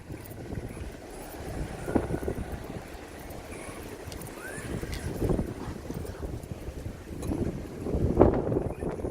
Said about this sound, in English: it's windy like hell